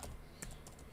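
Soft keystrokes on a computer keyboard tap out in a short, irregular burst, quiet and close, with no talk.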